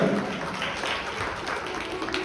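An audience claps at a Bhagwat Katha gathering, a soft, even patter of many hands sounding somewhat distant and quiet throughout.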